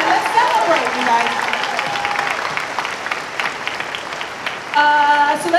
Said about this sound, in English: let's give a round of applause to these wonderful people